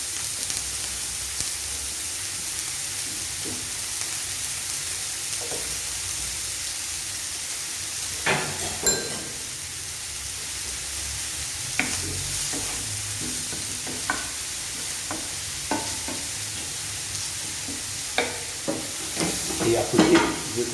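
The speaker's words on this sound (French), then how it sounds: "Maintenant, nous allons faire revenir les poireaux." Leeks sautéing in a pan give a steady close hiss of sizzling, broken by sporadic clacks and scrapes of stirring that grow busier toward the end, with no talk.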